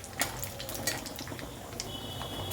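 Peanuts and spices being stirred in a kadhai, with light scraping and a few metallic clinks of a spoon against the pan over a soft background hiss.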